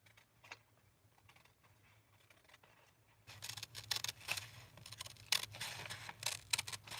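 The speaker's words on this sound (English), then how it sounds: "I'm going to go ahead and cut this one down." Scissors cut through paper while pages for a junk journal are trimmed, a crisp run of close snips and rustles that starts faintly, then grows louder and busier in the second half.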